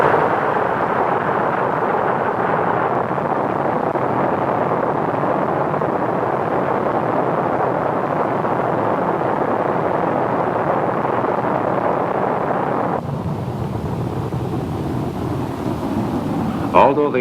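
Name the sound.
Atlas Agena rocket launch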